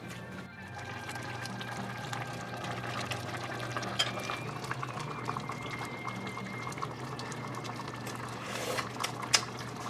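A pot of Cambodian spicy sour soup (samlor machou kroeung) with tender meat and green vegetables simmers steadily, giving a soft continuous bubbling hiss over a low hum, with occasional small pops near the end.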